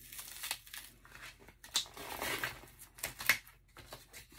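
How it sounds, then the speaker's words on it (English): A brand new package of double-sided tape is torn and crinkled open up close, with quiet irregular crackling and ripping bursts and no voices. "So this is a brand new package. I'm going to open it up"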